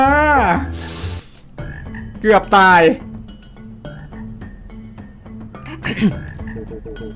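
A frog enemy in the video game Enchanted Portals lets out loud, rippling croaks, repeated several times over game music, while a player speaks briefly.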